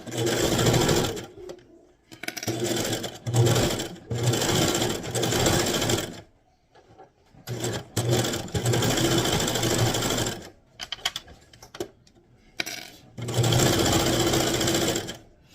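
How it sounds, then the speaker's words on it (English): Serger sewing the edge of heavy cotton twill fabric for a reusable shopping bag, loud close rapid mechanical whirring in several bursts of a few seconds each, separated by brief pauses. "So I'm going to start with my serger just to show you guys one edge,"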